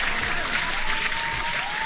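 Steady applause from a crowd fills the moment, a dense, even wash of many hands clapping at once, fairly loud and without pause.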